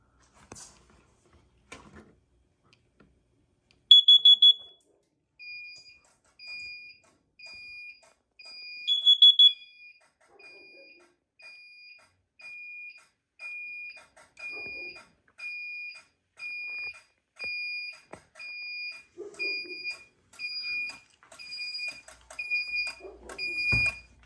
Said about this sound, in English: I'm gonna set off the carbon monoxide detector and get the yellow strobes to flash.